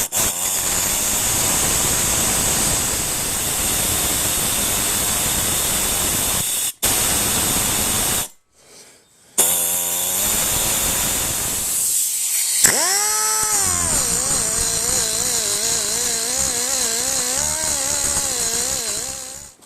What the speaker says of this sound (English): I'll take a little die grinder and finish it off, and I'll grind the inside of this